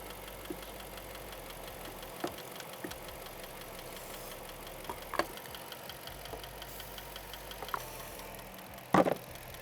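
An old abandoned police car's Hemi engine idles with a steady low rumble and faint ticking, broken by a few sharp knocks and clatters; no voices.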